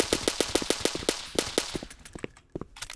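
Rapid, evenly spaced gunshots from a firearm in an indie video game, a loud burst of repeated sharp cracks that thins out and stops near the end.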